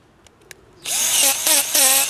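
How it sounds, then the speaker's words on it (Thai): An STR cordless 3-mode hammer drill, made for wood, steel, screws and masonry. After a couple of faint clicks, it whirs up loudly nearby, rising and easing in pitch in several revving bursts. "STR ตัวนี้จะเป็นรุ่น 3 ระบบ เจาะไม้เจาะเหล็กยิงสกูกระแทกได้นะครับเจาะปูนได้หมุนซ้ายหมุนขวาได้"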